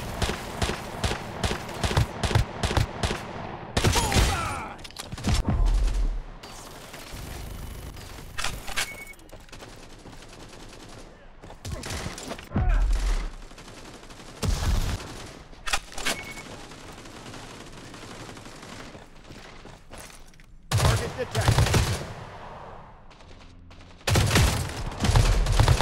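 An enemy turret fires in the mobile shooter Modern Strike Online, loud rattling automatic bursts that start and stop repeatedly over several seconds each, with quieter stretches of game ambience between volleys.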